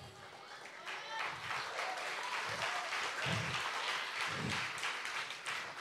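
A crowd claps steadily through a church sermon, a sustained, moderately loud patter of applause with voices speaking over it.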